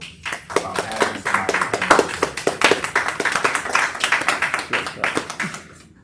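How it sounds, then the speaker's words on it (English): An audience applauds a doctor after a motivational talk, a dense burst of clapping that swells and fades over several seconds with no speech on top. "I would urge you to give Dr. a round of applause"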